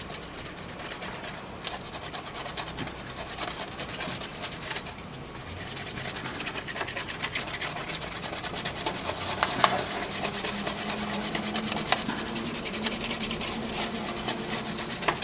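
Rubbing alcohol is spread across the motherboard of a Dell Inspiron 1525 laptop, producing a continuous close, soft scrubbing and rubbing texture with small scratchy bursts and a slight rise in intensity toward the end.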